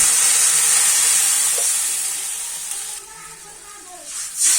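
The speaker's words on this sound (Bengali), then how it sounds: "এখন আমি ঝোলের জন্য জল দিয়ে দিব" Water poured into a pan of oil-fried spices for a vegetarian water spinach curry gravy bursts into a loud, close hiss that slowly fades and settles, with a fresh flare of sizzling near the end.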